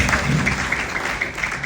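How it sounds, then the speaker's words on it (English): Steady applause fills a gala event hall, a dense even patter of many hands clapping without pause. "Round of applause."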